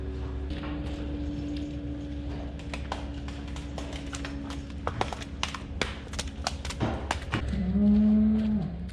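Cattle low on a farm during December chores while cows are rounded up, a deep drawn-out moo sounding near the end over steady background rumble and scattered clattering knocks.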